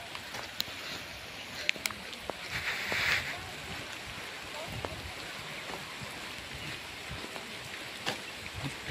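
Rain falls steadily outdoors at a Buddhist vihara in Bhalgaon, a soft, continuous patter on surfaces with scattered sharper drips, heard at a moderate distance under faint background murmur.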